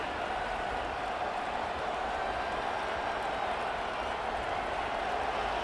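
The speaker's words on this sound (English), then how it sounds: "This crowd trying to make life miserable for this offense." Steady roar of a stadium crowd in the EA Sports College Football 25 game, a South Carolina vs. Clemson matchup, forming a dense, even wash of noise throughout with no speech.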